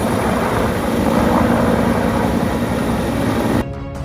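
A chief minister's helicopter comes in to land at a helipad in Ayodhya, producing a loud, continuous engine and rotor roar close by that drops off abruptly near the end.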